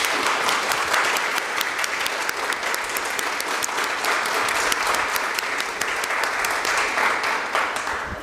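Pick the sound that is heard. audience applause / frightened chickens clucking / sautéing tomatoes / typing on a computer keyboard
audience applause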